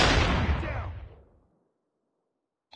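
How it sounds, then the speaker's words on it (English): A flashbang grenade goes off in a video game, a single loud burst that fades away over about a second and a half, then near silence. "Flashbang."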